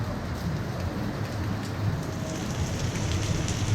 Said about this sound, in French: Il pleut des torrents d'eau.